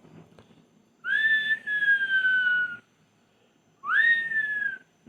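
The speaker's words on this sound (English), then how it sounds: "that weird whistling" A weird whistled tune from a Disney Channel movie: two loud, sustained whistled phrases with a gliding, slightly falling pitch, separated by a short gap, heard clearly and alone.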